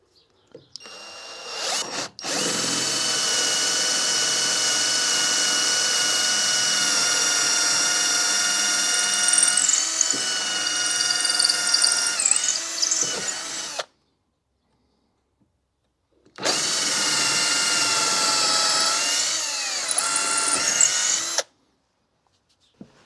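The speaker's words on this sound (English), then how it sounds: "just going to use a smaller drill and slightly blunt drill, if I'm honest, to put a pilot hole through the wood" A smaller, slightly blunt power drill boring a pilot hole through wood while fitting a vice to an SGS toolbox, running loud and steady for about eleven seconds, stopping, then whining again in a second burst with pitch shifts under load.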